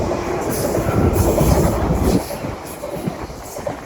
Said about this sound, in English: Passing through now is a Greater Anglia service from Norwich to London Liverpool Street.